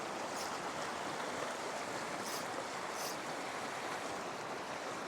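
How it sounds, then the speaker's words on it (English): Swift water on the Lower Owens River in the Eastern Sierra rushes around big boulders, a steady, close, full-bodied roar with no break. "Yeah, that water's moving."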